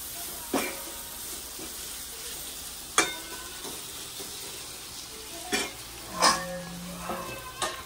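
Vegetables frying gently on low gas in a home kitchen pan give a soft, steady sizzle, broken by several sharp scraping stir strokes at irregular intervals.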